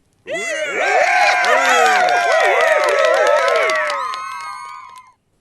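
A canned applause effect after a shout-out, mostly loud crowd cheering with shrill whistles and whoops over faint clapping, lasting about five seconds before cutting off abruptly.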